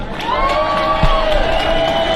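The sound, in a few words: crowd applauding and cheering at farmer protest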